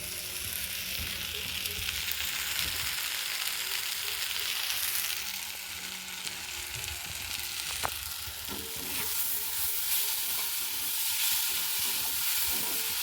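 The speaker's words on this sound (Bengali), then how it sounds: "শাক ভাজাটা বসিয়েছি।" Leafy greens fry in a pan with a continuous soft sizzle, joined now and then by light scraping and stirring, a quiet steady sound with no talking.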